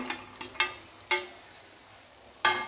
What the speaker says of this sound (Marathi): आता हे अलगद असं मिक्स करून घ्यायचं ग्रेव्हीमध्ये